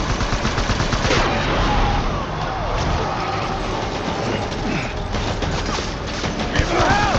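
Loud, dense gunfire rattles on almost without pause in the video game Death Stranding, rapid automatic bursts layered into a continuous barrage for several seconds.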